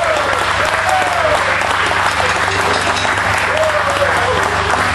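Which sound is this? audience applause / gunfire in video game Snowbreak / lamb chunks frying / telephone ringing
audience applause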